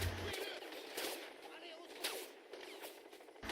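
Gunfire in the Crysis video game: several sharp shots in quick bursts over a steady roar of game noise, loud and close.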